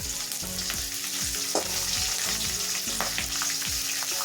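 Chillies sizzling in hot oil in a pan for a tempering, a continuous loud crackling fry with occasional stirring scrapes, close up with no talking.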